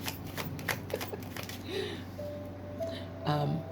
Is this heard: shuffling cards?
yes